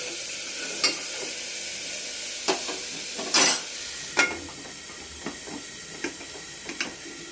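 Carrots are sautéed in a pot for soup, giving a soft continuous sizzle broken by scattered scraping and stirring knocks from a utensil, close by and with no talking.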